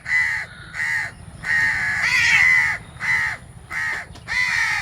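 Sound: young crows cawing

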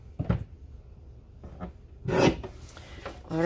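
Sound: paper trimmer cutting a paper strip

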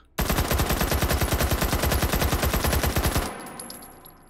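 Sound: gun bolt released and firing in Hot Dogs, Horseshoes & Hand Grenades VR game

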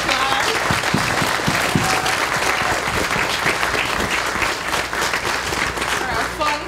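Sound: applause

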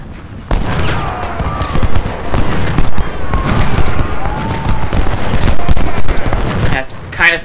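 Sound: cannon and gunfire from Ultimate General Civil War video game

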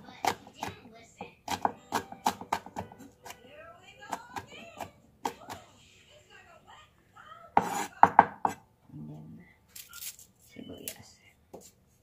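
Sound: pounding onion in a small mortar

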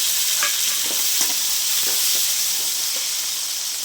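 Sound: sautéing onion and tomato in a pan

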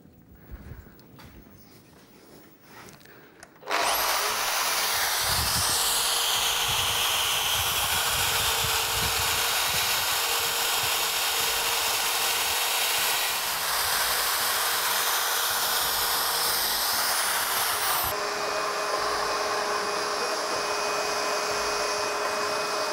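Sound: machine drilling a hole for a cup hinge

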